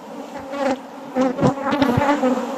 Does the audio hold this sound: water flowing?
no